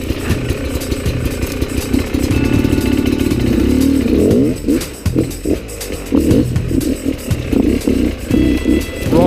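An enduro motorcycle climbs a wet, slippery rock face crossed by tree roots, its engine droning steadily then revving and sputtering unevenly as the clutch slips, loud and close throughout with no talk.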